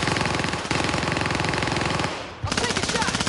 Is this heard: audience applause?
no